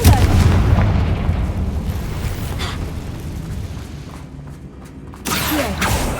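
A Confringo fire spell explodes in the video game Hogwarts Legacy. A deep booming blast opens, then a rumbling roar slowly fades, and a second burst hits near the end.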